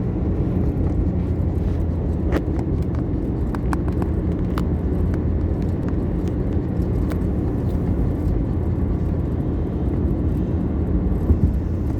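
Steady low road rumble from inside a moving car, continuous and even throughout with a few faint higher clicks and ticks over the drone, no talking.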